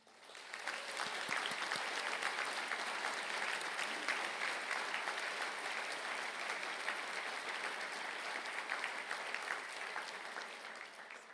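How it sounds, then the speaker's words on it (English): Conferring ceremony crowd applauding engineering graduates: a long, even roar of many hands clapping in a large hall, fairly distant and soft, building quickly and holding steady before easing off. "please stand up for a round of applause, please"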